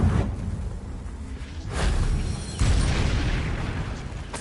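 A Confringo fire spell cast in Hogwarts Legacy bursts out as two whooshing, booming blasts, each followed by a rushing, sustained roar of flame, loud and up close.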